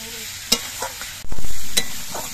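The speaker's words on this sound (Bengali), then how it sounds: "শিমগুলো ভাজার সময় কিন্তু আস্তে আস্তে জাল দিতে হবে" Broad beans with turmeric frying over a low flame in a pan, a close sizzle with a few stirring scrapes and a louder burst of hiss midway.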